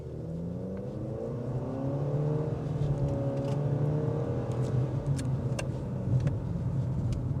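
A 2025 Nissan Kicks S accelerates on a test drive, its engine note rising steadily and holding as the car picks up speed. The sound is heard from close by and runs on its own, with no talk.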